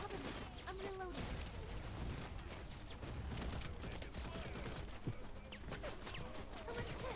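A firefight in the video game Wild Assault crackles with dense, continuous gunfire and scattered blasts, loud and busy from start to finish, while voices talk over the shooting.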